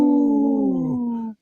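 A man imitates a wolf howl, one long sustained wavering tone that glides slightly downward and cuts off cleanly after about a second and a half, loud and close with no other sounds.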